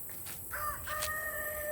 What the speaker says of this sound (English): My daughter's rooster was saying hi